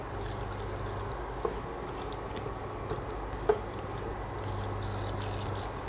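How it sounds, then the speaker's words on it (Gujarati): Water pours into a spiced potato curry in a pan as a soft, steady trickle that lasts throughout, with a couple of faint clinks from the vessel. "હવે જરૂર પ્રમાણે પાણી ઉમેરીશું."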